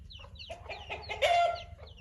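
Chickens and a hen at a rural farm enclosure cluck in short, close, moderately loud bursts, with one drawn-out squawk near the end over faint background hum.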